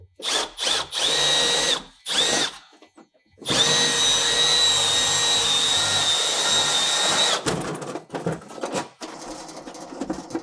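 A power drill whirs in short bursts, then runs in one long steady spin for several seconds before a few more quick bursts.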